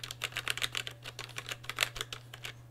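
Switches on a Roccat Vulkan 121 mechanical keyboard click and clack in quick irregular bursts of keypresses, close and fairly crisp, over a steady low hum.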